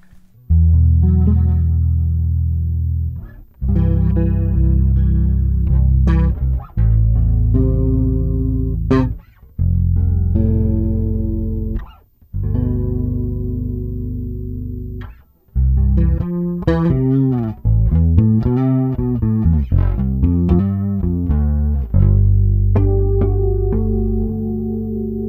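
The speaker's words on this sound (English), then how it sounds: "this Boss Chorus CE2B. It's the brown Boss Chorus pedal from the 80s and early 90s" An electric guitar plays through a brown 1980s-era Boss CE-2B chorus pedal. Sustained chords and single notes shimmer with a wavering chorus, played in phrases separated by brief pauses, close and loud with no talking.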